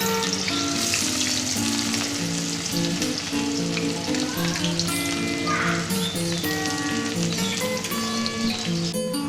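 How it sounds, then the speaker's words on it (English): Finely chopped onions fry in hot oil in a kadhai, giving a loud, steady sizzle with crackling pops that runs the whole time without any talk. "When the oil will be hot, put the finely chopped onions in the oil."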